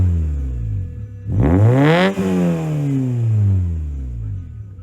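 Honda Fit with a lightweight flywheel revs hard through an aftermarket muffler, the engine note climbing sharply to a peak and then falling back to idle, loud and close with no talking.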